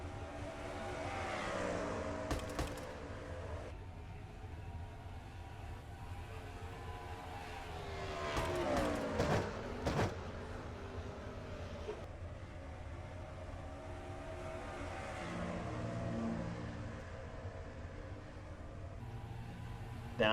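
Race trucks in a truck series event at Phoenix roar down the back stretch, a continuous engine drone rising and falling with passing vehicles, with a brief sharp burst in the middle.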